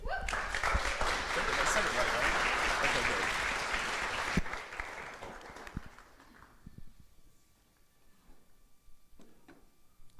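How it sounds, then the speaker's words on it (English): Audience applause for a speaker at a social media breakfast, dense and fairly close for about five seconds, then thinning to a few scattered claps and fading into a quiet room. "So a round of applause for Emily"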